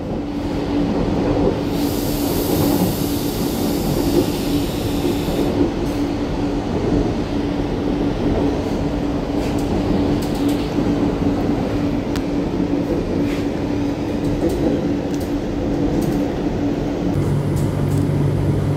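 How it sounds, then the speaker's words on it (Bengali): A Kolkata metro train running toward Dum Dum Cantonment gives a steady, loud rumble with a constant hum and rail noise throughout, no voices over it. "দমদম ক্যান্টনমেন্ট মেট্রো ঠিক আসছে, এই মেট্রোটা ওই যে আমার দমদম ক্যান্টনমেন্ট"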